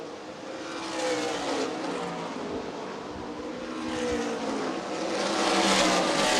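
Stock race cars lap Winchester Speedway during an ARCA/CRA Super Series feature, a steady, droning roar of several engines that rises and swells as the pack draws nearer, with no voices.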